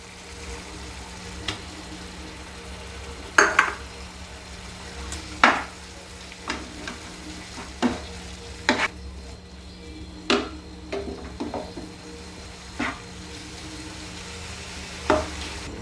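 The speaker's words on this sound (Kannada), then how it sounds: "ಈಗ ಇದನ್ನ ಒಂದು ಸಲ ಮಿಕ್ಸ್ ಮಾಡ್ಕೊರೋಣ ರೀ" Amaranth stir fry with grated coconut is stirred in a pan, giving scattered soft scrapes and knocks over a faint steady sizzle, with no one talking.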